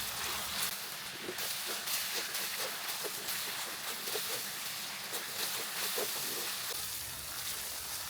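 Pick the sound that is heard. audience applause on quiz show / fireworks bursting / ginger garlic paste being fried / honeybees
ginger garlic paste being fried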